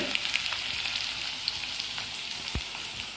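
Potato slices sizzle and fry steadily in hot oil in a pan while a sabudana dish is cooked, a soft continuous crackle with occasional small pops and a light stirring knock.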